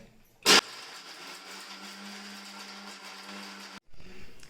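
A kitchen mixer grinder grinding masala whirs steadily at close range for about three seconds, then cuts off abruptly. A short sharp clatter comes before it starts.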